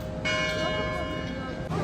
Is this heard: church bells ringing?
yes